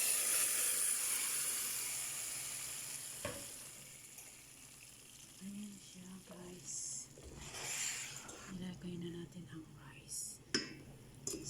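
Rice goes into a hot pan of browned ingredients, giving a soft steady sizzle and hiss near the mic, with occasional stirring clinks and a quiet voice speaking in Filipino.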